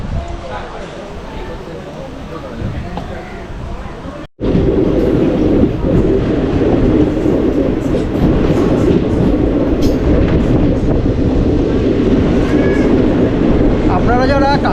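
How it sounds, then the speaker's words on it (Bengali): A passenger train on the Katwa–Ahmadpur line in rural Bengal, near Nabagram Kakurhati halt, rumbles steadily and loud from close inside the carriage, with a brief gap before the noise swells; people talk over it. "সিগন্যাল দিয়ে দিয়েছে, উঠে যাচ্ছি ট্রেনে।"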